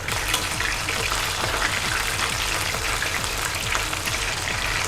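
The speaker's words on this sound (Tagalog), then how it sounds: "mainit na yung mantika natin. Maglalagay na tayo ng chicken wings." Chicken wings dropped into hot cooking oil, filling the clip with a loud, steady crackling sizzle and fizz, dense and continuous, with no one speaking over it.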